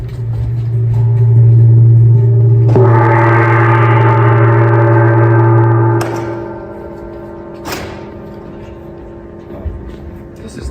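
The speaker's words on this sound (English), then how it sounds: "This is the gong." A gong in a classical percussion demonstration: a loud, low sustained hum swells into a shimmering metallic roar, then decays after several seconds. Faint taps and handling sounds follow.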